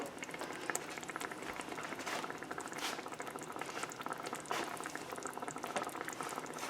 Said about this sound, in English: Oh, it's bubbling already.